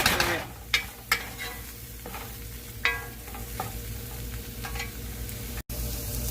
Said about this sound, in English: So now guys, we're going to come in with about 2 cups of broth.